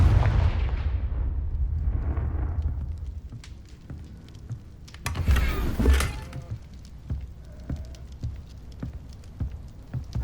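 A Confringo spell blast in the Hogwarts Legacy video game, a loud booming explosion at the start that rumbles and decays, followed by a second burst and scattered crackling debris.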